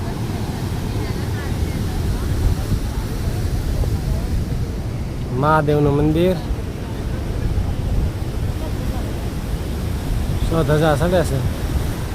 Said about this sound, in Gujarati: પાણી તો તમે જો કેટલા મોજા આવે છે.